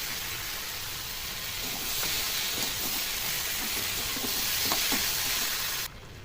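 Chopped tomatoes hitting a hot pan of ridge gourd with turmeric and salt, giving a loud, dense, continuous sizzle close by that cuts off abruptly near the end, with no talk.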